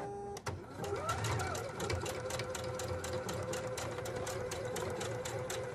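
A domestic sewing machine runs steadily while stitching a blind hem on a pair of pants, a fast even mechanical whir that keeps going throughout, close and moderately loud.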